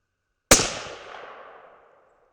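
A single suppressed shot from a Thompson Center Compass rifle in 6.5 Creedmoor, fired at a target: one sharp, loud crack followed by a short, fading ring, with no voices.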